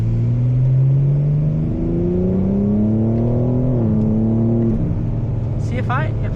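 A BMW M4 Competition exhaust revs as the car accelerates hard, rising engine tones climbing through gears with brief shift dips, loud and close, with a short tyre squeal near the end.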